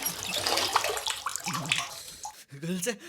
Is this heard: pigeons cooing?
no